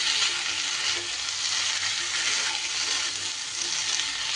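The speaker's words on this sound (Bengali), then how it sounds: "সুন্দর করে একটু নাড়িয়ে চাড়িয়ে সব কিছু মিশিয়ে দিতে হবে।" Coconut and pumpkin curry with potato stirred in a frying pan, a steady, close, continuous sizzle with soft scraping throughout and no talking.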